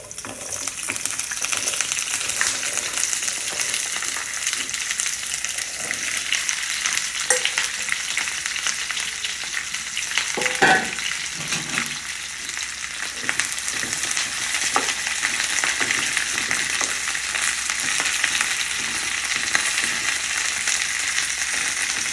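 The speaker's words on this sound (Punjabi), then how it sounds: "ਤੇਲ ਗਰਮ ਹੋ ਗਿਆ ਆਪਾਂ ਕਰੇਲੇ ਪਾ ਦਾਂਗੇ" Small bitter gourds dropped into hot oil sizzle and fry steadily at close range, a dense continuous crackle with occasional stirring and clinks, no talking.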